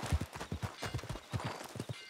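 A horse's hooves clip-clop in a quick, steady rhythm as it is ridden, the close, distinct beats following one another throughout.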